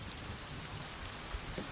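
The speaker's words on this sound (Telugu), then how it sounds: "వర్షం ఇప్పుడప్పుడు తగ్గేటట్టు లేదు." Steady rain falls outside a bachelor's room, a soft, even hiss with faint patters, heard alone without any voices.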